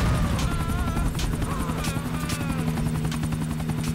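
A helicopter in Grand Theft Auto 4 drones steadily with its rotor thumping and engine hum, loud and continuous, along with some faint clatter.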